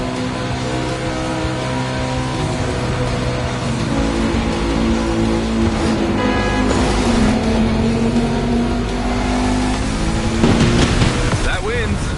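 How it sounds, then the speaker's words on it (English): A race car revving hard in the video game The Crew Motorfest, a sustained engine drone that climbs and shifts in pitch, loud throughout with a sharper rise near the end. "If you want to push the car to its limit,"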